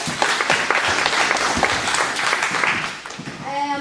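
A group claps at a children's GAA club coaching workshop in Antrim, a short round of applause that thins out, followed by a voice coming in at the end.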